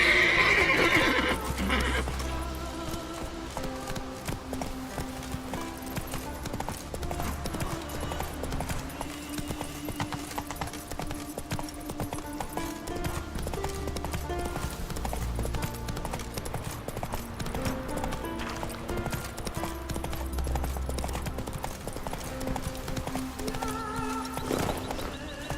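A horse in The Witcher 3 gallops with a continuous beat of hooves and gives occasional neighs, mixed into a dense, steady game soundtrack.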